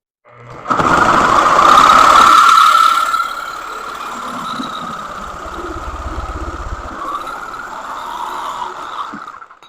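A Sawzall reciprocating saw cuts into wood on a budget header build, a loud buzzing burst for a couple of seconds that drops to a steadier, quieter rasping hum for several seconds more.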